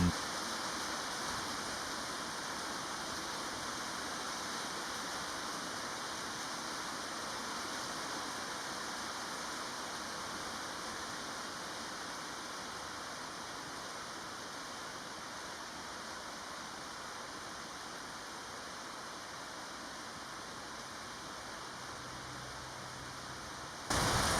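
Steady rain falls across the pitch of the Thunderdome football stadium during a team training session, a continuous even hiss with no clear voices and no breaks.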